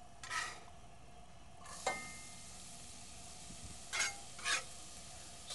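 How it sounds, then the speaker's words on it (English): Onion sautéing in extra virgin olive oil for risotto, a soft steady sizzle broken by a few short stirring scrapes, heard close and alone without talk. "he's going to saute this onion in olive oil"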